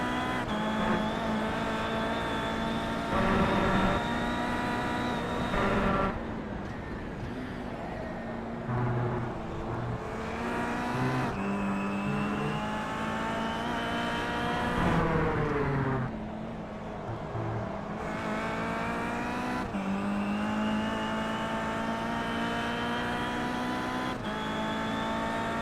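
Onboard a KIA Cup race car at Donington Park, the engine roars loudly and continuously close up, pitch climbing and dropping through gear changes and corners, with occasional tyre noise.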